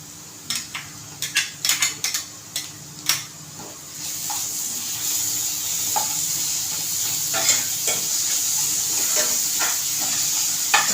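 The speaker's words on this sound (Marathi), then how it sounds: "कांदा आपला चांगला ब्राऊन झाला तर मी त्याच्यामध्ये वाटण टाकते आपण आलं लसूण कोथंबीर घेतलेली ना ते वाटण टाकते" A ginger, garlic and coriander paste hits browned onions in a hot pan, giving a burst of stirring clatter and utensil scrapes at first, then a continuous loud sizzle of frying that fills the rest of the clip without speech.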